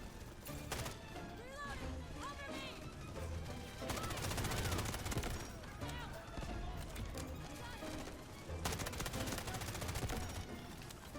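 K-416 rifle fire in the shooter game Delta Force, dense and loud bursts running almost without pause, with other game noise and someone talking over it.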